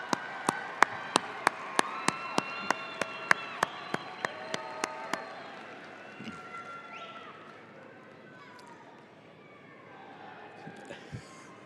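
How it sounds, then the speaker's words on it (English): The audience at the 2017 UCCS fall commencement claps in a sharp, steady rhythmic beat with cheering voices. After about five seconds the clapping fades into a softer crowd murmur with scattered noises. "give them a round of applause"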